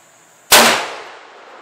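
A single sharp rifle shot from a Ruger American chambered in 7mm-08, fired outdoors at a target: one loud crack with a quick decaying tail, with no talking.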